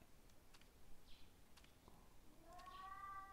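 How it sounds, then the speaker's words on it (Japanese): Cat meowing in the horror video game Tsugunohi: faint, thin mews scattered over a quiet ambient hum, with a clearer drawn-out meow near the end. "あ、まだ猫の声。"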